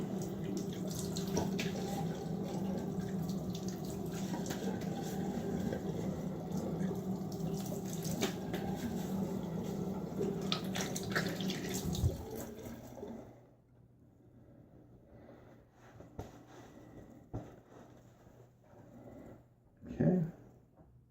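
A bathroom tap runs steadily while a safety razor is rinsed during a wet shave, a constant close watery rush that cuts off partway, leaving quiet room tone with a few faint taps and drips.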